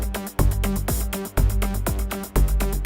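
A Predator 3 synth with a high-pass filter applied plays a rhythmic pattern inside an electronic track with punchy kick and bass, its own low end trimmed so the bass sits apart. Steady, loud and free of speech.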